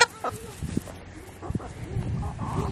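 Chickens clucking as they eat table scraps, with scattered short clucks and calls close by over a low background, with a person talking faintly.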